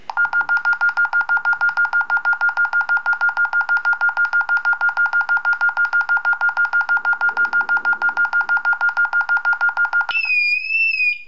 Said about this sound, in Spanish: Ustedes han escuchado cuando se ha puesto ya, se ha armado la alarma, ha sonado la sirena.